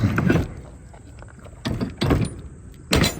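A new door on a semi-truck trailer being worked open: several loud metallic clunks and rattles of latches and hardware, separated by quieter pauses, close by.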